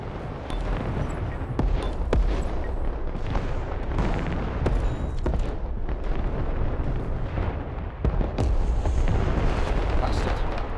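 Artillery fire in the Broken Arrow war game: a dense, continuous barrage of booms and blasts with sharp individual hits standing out, loud and sustained throughout.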